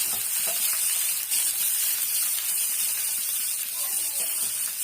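Garlic, onion and tomato sauté in a pan for a Tamil-style fish curry masala, giving a steady, even sizzle with broadband hiss that holds level throughout, with no voices.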